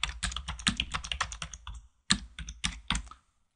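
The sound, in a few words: typing on a computer keyboard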